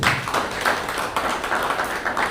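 A round of applause at a business incubator project launch, with moderate, evenly sustained clapping from a room of attendees throughout, no voices over it.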